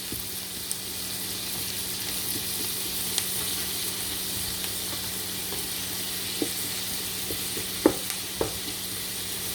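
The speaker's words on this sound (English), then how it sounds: "So our onion is still frying." Onion fries in a pan on high heat, giving a steady, moderately quiet sizzle with occasional small pops and crackles throughout, no voices.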